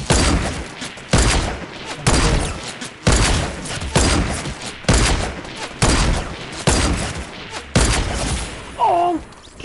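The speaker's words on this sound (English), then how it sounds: "Did the last shot not hit you?" Sniper rifle fire in the Fortnite video game: about eight loud, booming shots at a steady pace of roughly one per second, each with a ringing tail that runs into the next.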